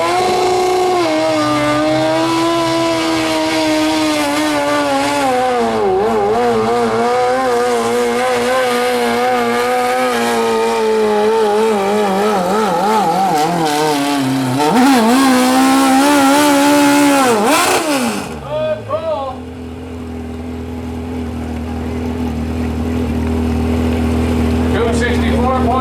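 A 1,200-pound class modified lawn tractor with a motorcycle engine runs at a truck and tractor pull, roaring close and loud with wavering, rising revs. The engine then drops to a lower rumble, with an announcer talking over it.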